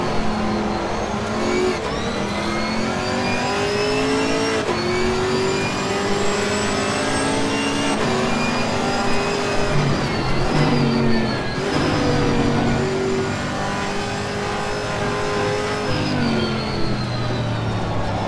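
A GT4 race car engine in Assetto Corsa Competizione revs continuously, rising and falling through gear changes with a steady loud whine for the whole stretch and no talking.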